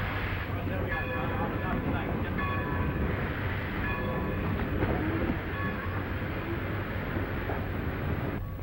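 A train rumbles steadily at close range for the whole stretch, with brief tonal squeals and hum over the continuous noise. Voices appear to talk over it.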